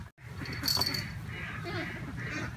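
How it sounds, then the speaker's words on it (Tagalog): Ducks on a farm quacking and honking in soft repeated calls, moderately near, over a busy background of outdoor noise. "Ang mga bibi naglakaw-lakaw"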